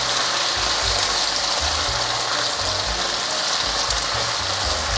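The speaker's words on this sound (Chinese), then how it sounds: "翻炒一下，大约3分钟。" Dried tofu and king oyster mushrooms are stir-fried in a wok for a vegan dish. A continuous, loud, close sizzle runs throughout, with scraping and stirring knocks underneath and no speech.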